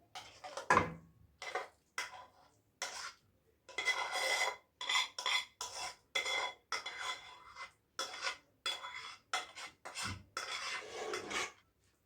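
Boiled potatoes, mashed while cooking, being tipped and scraped into a baking tray for a cream potato bake, a run of short clattering, rasping scrapes and knocks in quick irregular bursts, close and fairly quiet, with no talk.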